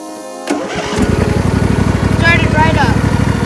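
A John Deere lawn tractor engine with 5,330 hours cranks over and starts, then settles into a loud, rapid, rhythmic idle close to the microphone, with a brief voice-like sound over it.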